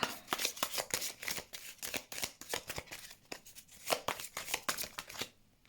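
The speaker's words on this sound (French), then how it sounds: "Si j'arrive à mélanger les cartes." Tarot cards are shuffled by hand in quick repeated riffles, a rapid crisp fluttering rhythm, close and fairly quiet, with no talking.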